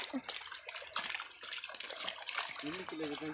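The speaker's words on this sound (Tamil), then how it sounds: "அது புது தண்ணி வந்து விழுவுதுல்ல" Fresh water trickles and splashes steadily into an irrigation channel after rain, with a bright hiss, while a person talks close by over it.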